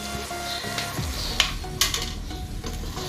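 Rice with ghee and ground spices stirred in a frying pan: a low sizzle under several clattering scrapes and two sharp utensil knocks against the pan, close up, no talk.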